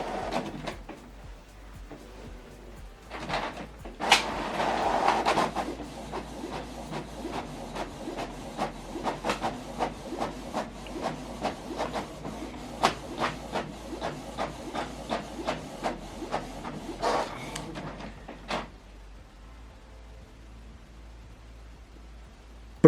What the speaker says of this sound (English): Now this document is going to print only 1 page.